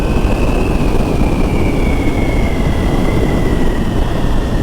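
A 2025 Triumph Tiger Sport 800 motorcycle accelerates at about quarter throttle, its engine a loud, steady, close roar with a rising whine, heavily mixed with rushing wind noise.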